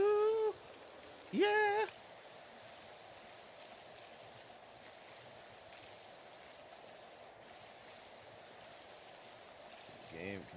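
A pressure washer in PowerWash Simulator sprays in a steady, faint hiss that runs almost the whole time, with brief voiced sounds near the start and a short one at the end.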